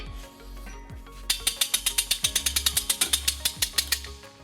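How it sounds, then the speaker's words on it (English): A hitch jack ratchets a heavy trailer hitch up into place under a 2015 Toyota RAV4, a steady run of sharp metallic clicks, close and rhythmic, over a low background hum. "We'll be using our U-Haul exclusive hitch jack"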